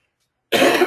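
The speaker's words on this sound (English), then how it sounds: "do apologise for the tickly cough." A single tickly cough bursts out abruptly after a moment of silence, close and loud, a short rough throat-clearing hack.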